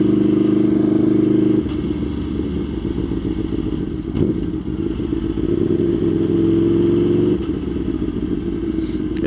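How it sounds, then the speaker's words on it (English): An Aprilia Tuono V4R motorcycle engine sounds loud and nearby with a deep, throbbing tone, easing from a steady drone into rougher, varying revs before the droning note returns, with a brief thump midway. "They don't expect like the nice deep tone of this bike."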